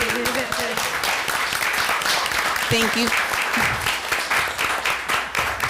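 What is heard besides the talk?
audience applause at school board meeting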